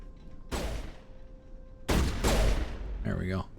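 Gunfire in the PC game Mass Effect 1, on the Feros mission: two loud sustained bursts of shots, separated by quieter stretches, with a short burst of speech near the end.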